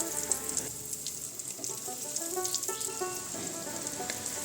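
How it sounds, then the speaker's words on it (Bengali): Hot oil in a wok sizzles softly and steadily as egg and potato iftar snacks fry, the sound fairly faint and continuous with a few light bubbling crackles. "তেলটা ভালো গরম হয়ে আসলে তারপরে ইফতারগুলো তেলের মধ্যে দিয়ে দিব"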